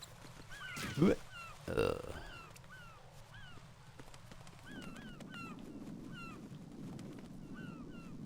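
Bird calls in the stealth game Metal Gear Solid 2, with repeated short chirps and squawks over a low ambient rumble, fairly faint, and two louder thuds or bursts near the start.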